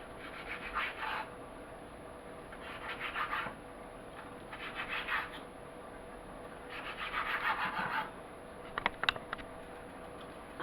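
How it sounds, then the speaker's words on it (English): A knife slicing through about a dozen raw bacon strips on a cutting board, with soft, close rasping strokes in short bursts separated by brief pauses, fairly quiet overall. "I'm going to cut up some of my bacon."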